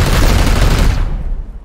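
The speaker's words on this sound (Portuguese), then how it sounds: "Será que dois tiros explosivos em área mata?" Explosive area gunshots in Warhammer 40k: Chaos Gate - Daemonhunters, a loud burst of rapid heavy blasts that rumbles for about a second, then quickly fades out.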